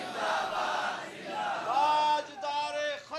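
A large crowd at a religious gathering chants a slogan back in unison in response to the speaker, loud, sustained, rising and falling voices filling the space.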